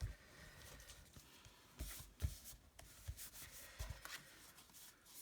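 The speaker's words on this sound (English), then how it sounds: "we'll just bring my microfiber cloth and just take that off" A microfiber cloth rubbing excess glue off a handmade card, soft close scrubbing strokes with a few light taps and bumps, quiet and continuous.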